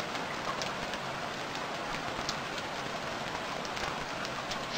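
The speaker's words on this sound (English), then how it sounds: "we gotta wait for this rain to pass." Steady rain patters in the survival video game Stranded Deep, a constant dense wash of drops with scattered sharper ticks, no voices.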